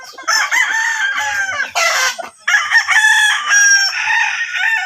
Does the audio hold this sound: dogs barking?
no